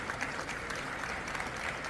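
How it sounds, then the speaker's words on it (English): An audience at a world-stage assembly of representatives bursts into applause, a dense continuous patter of many hands clapping, heard at moderate distance without speech. "And people are clapping."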